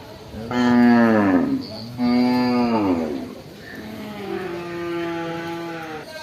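Cattle moo nearby at a Sunday market, two loud drawn-out calls followed by a softer, lower moo.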